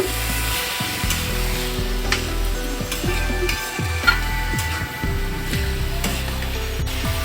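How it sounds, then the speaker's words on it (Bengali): Grated bottle gourd goes into a pan of fried onion and garlic and is stirred, giving close, repeated scraping and knocking strokes over a low steady sizzle, with no one talking. "পেঁয়াজ রসুনটাকে ভেজে নেওয়া হয়ে গেছে এবারে দিয়ে দিব গ্রেট করে রাখা লাউ এবারে নেড়ে দিব"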